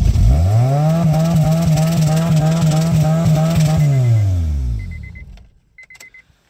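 A car engine starts and is held at wide open throttle, a loud, close, sustained high rev that runs steadily for several seconds, then winds down and cuts out, leaving faint clicks.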